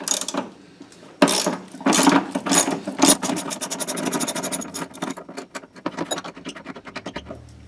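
A socket ratchet with an extension works loose a car battery hold-down bolt, giving bursts of quick clicking pawl ratchets separated by short pauses, close and clear with no talk.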